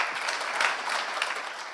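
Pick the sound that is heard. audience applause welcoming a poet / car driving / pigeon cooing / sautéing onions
audience applause welcoming a poet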